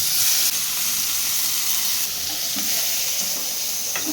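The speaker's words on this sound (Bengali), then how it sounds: "কড়াইতে তেল গরম করে হালকা তেলের ওপরে ওই শ্যালো ফ্রাইয়ের মতন করে ভেজে নিতে হবে" Marinated chicken pieces shallow-fry in hot oil in a wok, making a loud, continuous sizzle and hiss with occasional stirring scrapes, close up and with no talking.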